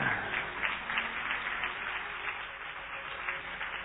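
A church congregation claps steadily throughout, a dense, even patter of applause heard from a slight distance.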